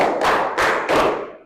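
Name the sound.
hand clap in a counting clapping exercise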